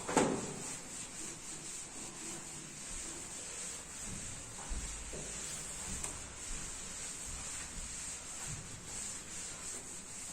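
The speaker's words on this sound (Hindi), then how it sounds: "ओके, चलिए रब कर लेते हैं इसको." A classroom board is rubbed clean with steady, soft scrubbing strokes, a continuous dry brushing sound at low volume under a faint high background hiss, without speech.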